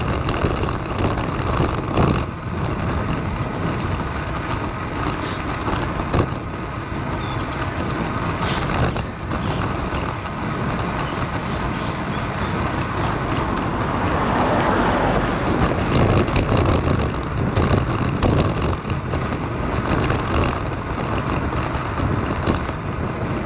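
Continuous road noise while cycling, with car engines and tyres passing at moderate distance and a steady rushing background.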